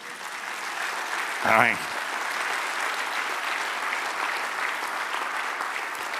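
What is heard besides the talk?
congregation applauding in church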